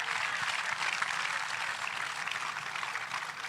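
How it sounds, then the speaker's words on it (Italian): Spontaneous applause from an audience at a live event in La Caletta, a steady dense clatter of clapping that holds evenly, loud and close, throughout. "capisco che l'applauso spontaneo è venuto"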